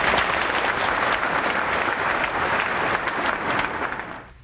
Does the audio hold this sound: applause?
yes